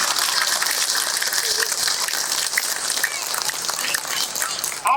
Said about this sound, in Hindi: एक बार सारे लोग जोरदार तालियां इसरो के लिए बजाइए